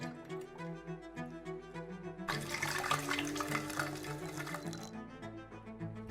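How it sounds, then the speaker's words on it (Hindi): Water running from a tap for a little over six seconds, steady and close, as sugar is stirred into a small amount of water to dissolve it, with a louder surge of flow partway through. "इसे थोड़े से पानी में तब तक मिलाएं जब तक कि ये पूरी तरह से घुल ना जाए"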